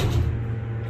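A mall elevator door slides shut with a low, steady rumble and a brief soft thud at the start, fairly close, with no voices.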